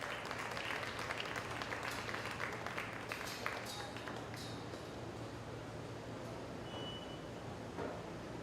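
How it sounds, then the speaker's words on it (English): Sustained applause from an audience at a county fair swine show, steady clapping filling the space for several seconds with a few faint voices mixed in. "let's give these exhibitors one more big round of applause"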